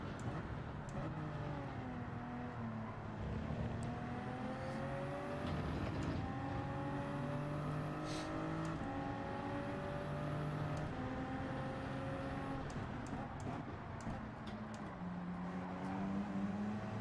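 Race cars lapping in Gran Turismo 7 daily races, a continuous layered engine drone with rising and falling pitches as several cars rev and shift together, fairly faint.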